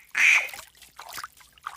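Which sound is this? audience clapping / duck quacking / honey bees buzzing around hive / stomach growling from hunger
duck quacking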